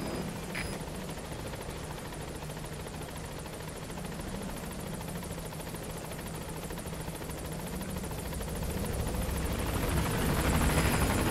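A helicopter in the Metal Gear Solid V video game arrives at a landing zone, its rotor thrumming steadily and growing louder as it approaches.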